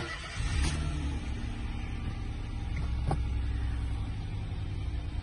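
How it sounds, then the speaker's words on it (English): A Peugeot 108 engine cranks and catches, then settles into a steady low idle hum with a couple of brief clicks. "So I'm going to need to dip the clutch on the car in order to start it."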